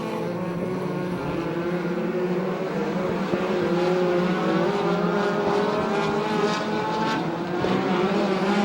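Sprint cars roar around a speedway on the final lap of a USAC/CRA race, a dense, continuous engine howl with overlapping pitches that shift as the pack passes, steady and fairly loud throughout.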